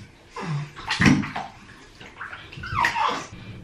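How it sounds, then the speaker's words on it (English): A baby splashing water in a bathtub during a wash, with a few irregular close splashes and sloshes, loud bursts separated by brief quieter moments. "I don't know if she be trying to just splash or just don't like it."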